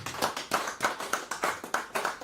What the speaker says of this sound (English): the Yemi Farounbi Colloquium deserves a round of applause